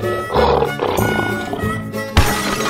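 A lion roars loudly and close in a children's animal-painting cartoon, a single deep roar followed by a second burst after a brief pause.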